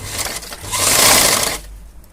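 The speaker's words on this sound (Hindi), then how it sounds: "मशीन की आवाज़ भी आपको साफ़ सुनाई देगी" A sewing machine runs in a steady whirring burst as it stitches fabric for a deity's dress, close and fairly loud, then stops abruptly near the end.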